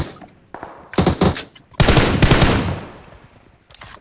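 Rapid bursts of automatic gunfire from the PUBG battle royale video game, loud and close, with two dense volleys separated by short gaps and a few trailing shots.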